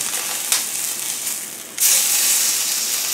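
Bone-in ribeye steak searing on its end in a hot pan, a steady close sizzling hiss that jumps louder partway through as fresh meat hits the surface, with no talk.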